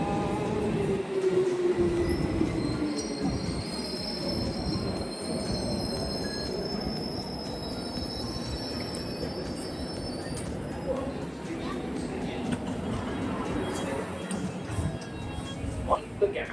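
London Underground train pulling into Finchley Road station, a long rumbling roll with wheel squeal and high brake whine while the carriage slows, heard from a nearby platform seat; a voice speaks briefly over it.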